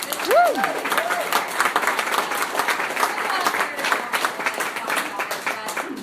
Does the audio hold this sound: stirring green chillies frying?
no